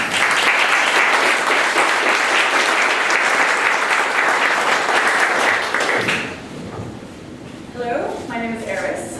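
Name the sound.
audience applause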